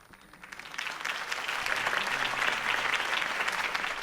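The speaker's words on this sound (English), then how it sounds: "If only Mr. Wayne, my campaign's largest backer, could have heard that applause" A crowd in the Batman Telltale Series video game breaks into applause that swells from quiet to a full, sustained round of many hands clapping, heard at a moderate distance.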